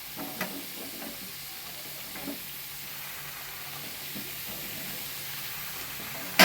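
Steady, quiet sizzling of papaya, carrot and beans sautéing in a pan, with a few soft stirring knocks and scrapes against the constant hiss.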